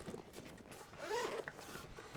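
The zipper on the top compartment of a TTI JW4 Dracarys Gen-12 shotgun bag is pulled open in one short, close, fairly quiet rasping run.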